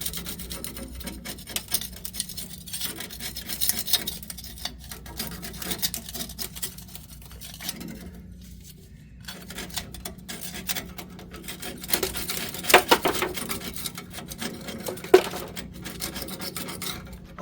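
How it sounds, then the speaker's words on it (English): Scraping and rasping across the axle housing and differential of a 1999 Chevy Silverado 4x4, with repeated rough strokes at close range, some louder bursts, and no talking. "went ahead and scraped the axle, the differential, went ahead and scraped it off really well"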